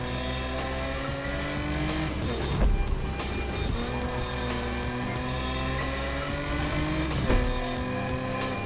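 Steady car engine drone from a street race in the video game Need for Speed Unbound, with harmonic revving that rises and falls and a couple of brief louder bursts, continuous and close throughout.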